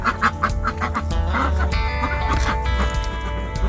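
Hens and ducks squabble in a coop under heat lamps, a noisy jumble of loud quacks, clucks and squawks that overlap close by with no pause.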